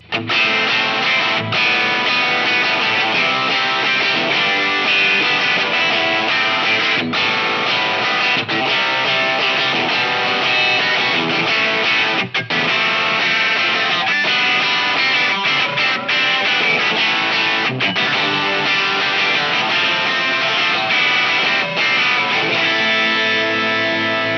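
A guitar runs through a ProCo RAT distortion model on a Line 6 POD GO, with thick, loud, steady gritty playing and a few brief breaks between phrases, no voice.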